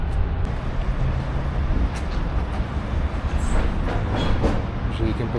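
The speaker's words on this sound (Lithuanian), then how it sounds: "Gdansko geležinkelio stotis." Train noise at Gdańsk railway station: a steady, loud rumble of rolling stock and station ambience fills the whole stretch, with a few brief metallic clanks and squeals near the end. No speech.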